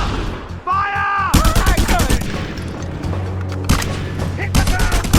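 Just Cause 2 combat with sharp rapid gunfire bursts, close and loud, firing in quick volleys as shouted voices cut in and a low rumbling hum sits underneath.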